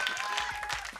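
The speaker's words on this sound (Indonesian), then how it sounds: "tepuk tangan dong buat grupinya mana?" A studio audience on a live morning TV variety show breaks into brief, brisk clapping for a fan group, a short burst of hands over faint music.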